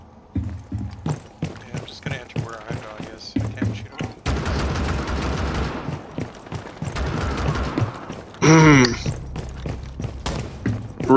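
Gunfire in Rainbow Six Siege, with rapid, sharp shots crackling through the scene and thuds and footsteps mixed in. Players talk over much of it.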